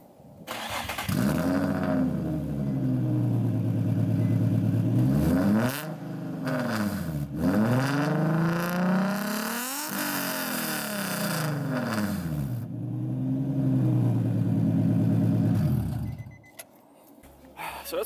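A 2003 Nissan 350Z engine starts and revs several times from idle, each rev sweeping up and falling back with a rough, throaty tone, loud and close over about fifteen seconds before cutting off.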